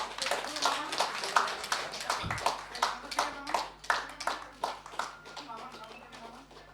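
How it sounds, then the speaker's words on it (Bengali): An audience at a book launch claps in a strong, rhythmic burst, many hands beating together in a near, steady pulse for several seconds before fading slightly. "ছোট কাকু 40-এর জন্য একটি জোরে হাততালি চাই আমরা"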